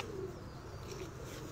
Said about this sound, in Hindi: ये टाइसन टेडी कबूतर है